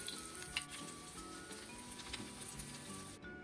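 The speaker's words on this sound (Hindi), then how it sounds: "और ऐसे ही बाकी सारे कटलेट्स को भी फ्राई कर लेंगे।" Potato and chicken cutlets fry in hot oil with a steady, continuous sizzling hiss that plays under background music for a few seconds.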